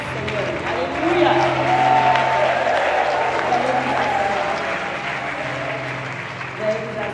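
A church congregation applauds and cheers for the Lord, a dense, steady wash of many hands clapping with crowd voices mixed in, sustained for several seconds before easing slightly.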